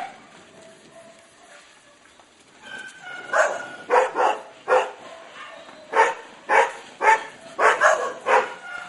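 Several dogs barking in kennels in the Philippines, quiet at first, then a run of sharp, fairly close barks and yips repeating in an irregular rhythm.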